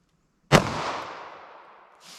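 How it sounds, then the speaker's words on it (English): A single loud gunshot from a .32 H&R Magnum revolver fired into a ballistic gel block, a sharp crack followed by a long decaying echo outdoors, with a faint second noise at the end. "let's hit that with our 32 H&R Magnum"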